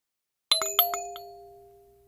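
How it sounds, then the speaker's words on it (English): Bright bell-like ding-dong of a doorbell, two to three struck tones ringing out close and clear, then decaying slowly in a quiet room. "The doorbell rang,"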